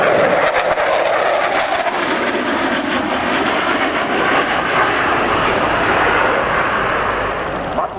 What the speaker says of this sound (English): But we have one pilot, Jacek Solarek, preparing to make dynamic show to present our beautiful plane.